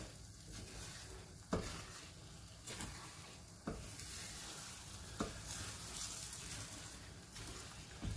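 Vanilla-flavoured batter cooking in a pan, a faint continuous sizzle with occasional scraping clicks of a utensil working the edges.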